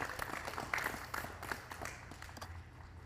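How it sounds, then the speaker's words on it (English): Scattered, faint clapping from a small crowd at a junior curling championship in an arena, with uneven claps drifting in and out over low room rumble. "Another round of applause for Team Freeman."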